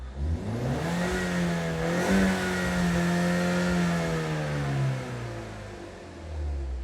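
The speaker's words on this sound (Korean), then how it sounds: "배기음 한번 들려드릴게요" A Ford Mustang coupe engine revs up and holds a loud, rising roar with deep exhaust rumble, then eases off near the end, close and steady with no talking.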